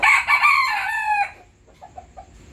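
A rooster of a fighting-cock breed crows once, close and loud, a strained, wavering call that cuts off abruptly and is followed by a few soft clucks.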